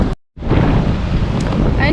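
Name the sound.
strong sea waves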